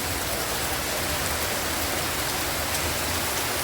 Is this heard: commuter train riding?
no